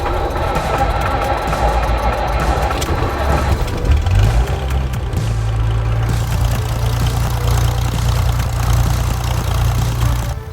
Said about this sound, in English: they have to do more checks now that the engine's on.